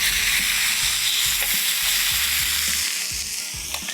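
A chicken steak sizzles steadily on a hot grill pan, a dense continuous frying hiss with small pops and scrapes, close and loud with no talking.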